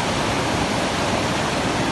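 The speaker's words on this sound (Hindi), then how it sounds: "ये हमारा नाला है" Snowmelt water from the mountains rushes down a stream in Hunza Valley, Gilgit-Baltistan, making a loud, steady roar with no pauses and no voices.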